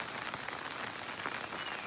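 Rain falls steadily in a rural village setting, a dense, even patter of drops on surfaces throughout, with no voices.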